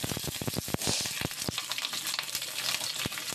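Spice mix and sliced coconut fry in a pan for khichuri with a close, steady sizzle, broken by sharp clicks and scrapes of a spatula stirring.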